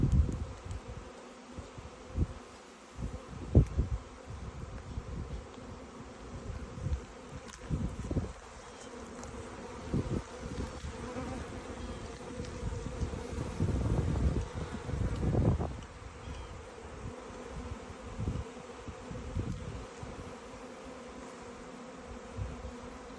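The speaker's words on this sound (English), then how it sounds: "We got bees everywhere." Honeybees swarming around a bee box buzz continuously around the listener, a dense droning hum that swells and fades as individual insects pass close, with occasional rustling and wind bumps.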